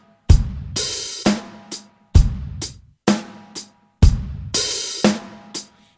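Drum kit groove in which an open hi-hat sizzles and is pedaled closed together with a hard snare crack, alongside kick drum thumps, repeating in a steady loud pattern about every two seconds.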